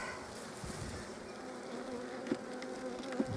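A dense, steady buzz of many bees surrounds an opened beehive in a garden, holding constant throughout with a couple of louder passes close by.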